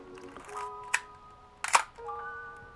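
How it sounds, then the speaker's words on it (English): Shutter of a 35mm film camera with worn light seals fired twice, two sharp mechanical clicks close up, with faint electronic tones between them and no talk. "Shutter seems to work."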